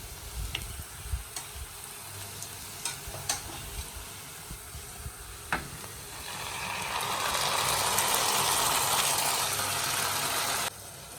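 Onions, green chillies, garlic and curry leaves sizzle and fry in a pan with tomato pieces added, scattered stirring clicks and scrapes over a steady hiss that swells louder and denser partway through, then drops off abruptly near the end.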